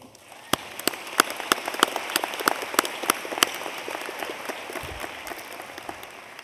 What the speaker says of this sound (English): You deserve a round of applause for all of that you have done.